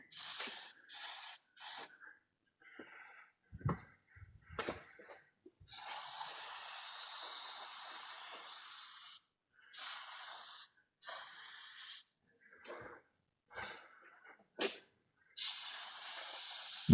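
Repeated hissing bursts of aerosol rust undercoating sprayed onto a car or truck underbody, some short and some held for several seconds, close up with quiet pauses between.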